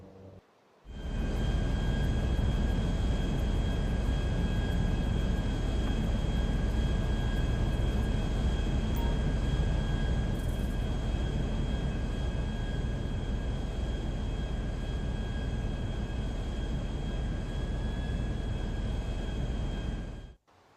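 Airplane cabin engine drone in the video game Grand Theft Auto 5, a steady, loud continuous hum with a faint high tone, starting abruptly and cutting off at the end with nothing else over it.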